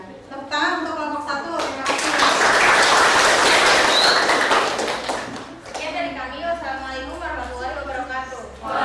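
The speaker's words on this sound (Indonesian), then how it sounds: "Tepuk tangan untuk kelompok 1." Students in a classroom clap for a presenting student group, a dense burst of applause that swells for several seconds and then fades, with children's voices before and after.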